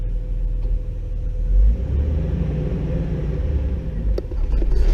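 A stick shift car's engine idles in a low, steady rumble from inside the cabin, with a brief swell as it catches and settles, then runs on evenly with a few small clicks.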